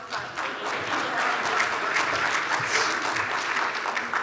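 Sustained audience applause at a panel discussion on Haiti and New Orleans, a dense, steady wash of many hands clapping that holds evenly for several seconds with no voices over it.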